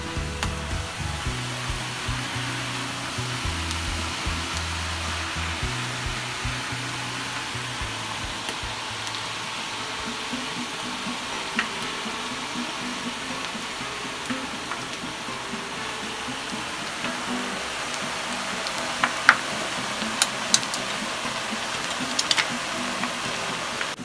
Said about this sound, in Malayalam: പക്കാവട ഉണ്ടാക്കാനുള്ള എണ്ണ നന്നായി ചൂടായിട്ടുണ്ട്. ഇനി നമുക്കിതിലേക്ക് ഇട്ട് കൊടുക്കാം.